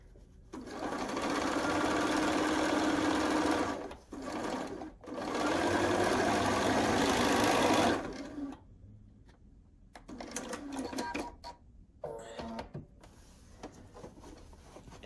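A sewing machine stitches curved quilt pieces for a double wedding ring quilt in several steady runs with short stops, followed by lighter clicks and handling sounds of fabric and machine.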